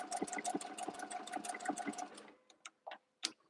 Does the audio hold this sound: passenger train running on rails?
no